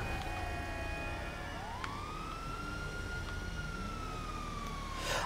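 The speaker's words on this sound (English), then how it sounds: "why aren't my sirens turning off?" Police car siren wailing in Grand Theft Auto V, a steady rising and falling electronic tone that runs continuously and loud from start to finish, sweeping in pitch with no talk over it.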